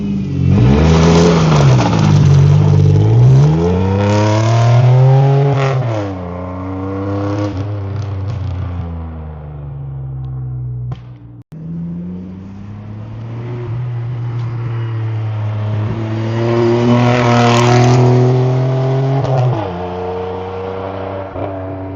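A Chevrolet Camaro V6 with a full straight-pipe exhaust revs and accelerates loudly nearby, its engine note rising and falling through two long pulls separated by a brief break, with no voices.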